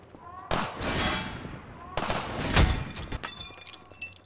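Sniper gunfire in Half-Life 2, with two loud, close shots, each followed by a rumbling, crackling tail and scattered debris.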